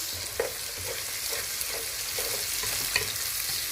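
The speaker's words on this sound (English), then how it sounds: "So I'll start by cooking my onions." Onions frying in a pan in a home kitchen, a steady close sizzle broken by occasional soft stirring scrapes, with no one talking.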